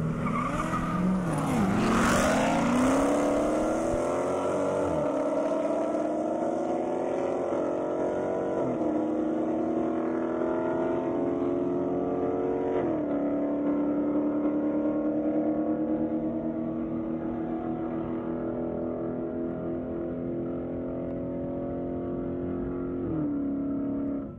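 Ed Mears' Audi R8 race car at an airstrip race blasts loud and close from start to finish, with rising engine revs through repeated upshifts and a brief tyre squeal near the start.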